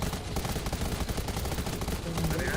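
Rapid automatic gunfire from a shooter match in Undawn, a steady dense rattle of close shots throughout, with a voice faintly talking under it.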